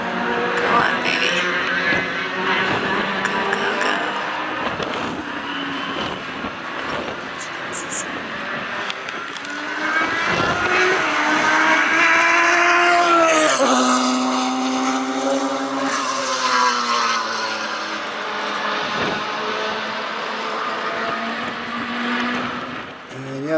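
Race car engine at Willow Springs during a CalClub US Majors race, suffering a sticking throttle, droning loudly and continuously with rising and falling pitch through corners onto the front straight, a voice talking over it.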